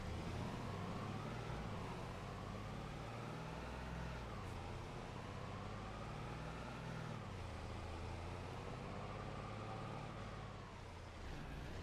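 A vehicle engine in Farming Simulator 25 drones steadily, rising and dipping in pitch as the wheels lose traction and spin, a continuous moderately loud rumble with no talk over it.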